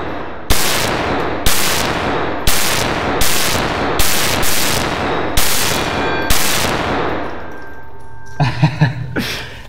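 A gun fires at a target in seven loud, close, evenly spaced shots about a second apart, each ringing off briefly, then a short flurry of clatter follows.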